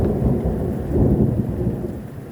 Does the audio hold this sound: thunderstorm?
yes